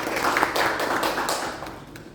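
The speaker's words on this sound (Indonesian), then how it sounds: "Tepuk tangan Bapak Ibu" A seminar audience applauding together in a hall, a steady wash of many hands clapping for about two seconds that thins out toward the end.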